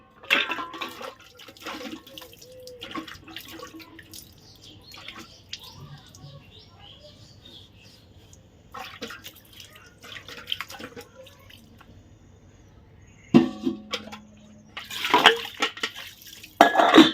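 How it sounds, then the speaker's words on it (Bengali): A water filter is scrubbed and rinsed at a tap, with intermittent splashing, dripping and clattering plastic in uneven bursts separated by quiet gaps, close by and without talk. "ফিল্টারটাকে ভালো করে মেজে পরিষ্কার করে ধুয়ে"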